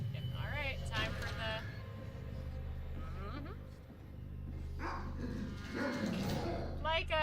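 A puppy dog in the video game Transference gives short yips and rising whimpers a few times, close and fairly clear over steady low game ambience and background noise.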